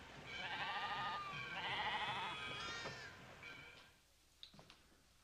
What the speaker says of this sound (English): let's go watch them slaughter the sheep